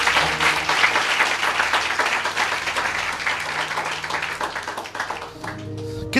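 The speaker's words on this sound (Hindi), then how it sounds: "क्या हम इस वचन के लिए ताली बजा सकते हैं?" An audience at a Hindi church sermon claps steadily for several seconds, a dense continuous applause that thins toward the end.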